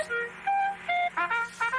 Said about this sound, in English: The clarinet sounds like this.